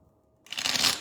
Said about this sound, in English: So I always shuffle in between rounds.